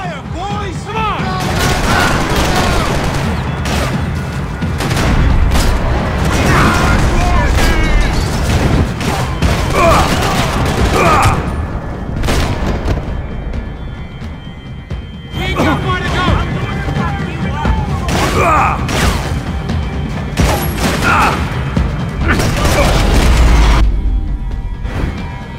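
Dense gunfire and explosions in the Max Payne 3 video game: rapid bursts of automatic fire, sharp single shots and heavy booms crowd together continuously, loud and close, with occasional shouted voices mixed in.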